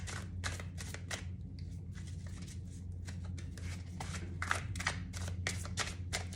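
Tarot cards are shuffled close by in quick, repeated bursts of riffling and rubbing over a low steady background hum, with no talking.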